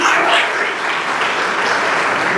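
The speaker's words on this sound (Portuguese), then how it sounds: "Se essas palmas são para o Senhor, faça isso." A church congregation claps in a dense, steady burst of applause, loud and close, filling the whole moment without a break.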